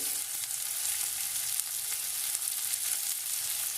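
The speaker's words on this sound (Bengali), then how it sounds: "আমি পেঁয়াজটা দিয়ে একটু নাড়াচাড়া করবো।" Chopped onion and onion greens frying in a pan for a Malabar prawn curry, giving a steady, dense sizzle throughout with small scraping accents from stirring, close and fairly loud.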